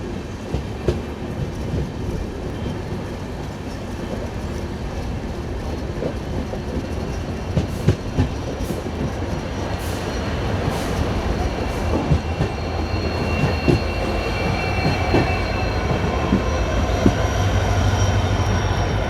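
A passenger train travelling between Pune and Hubli runs steadily, its wheels clattering over rail joints in a continuous, fairly loud rumble with occasional sharper clicks and faint squeals, no voices present.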